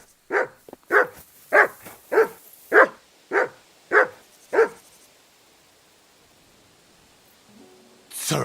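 A dog barks in Kingdom Come Deliverance 2, eight sharp, evenly spaced barks close by, then quiet for several seconds before another sound begins at the end.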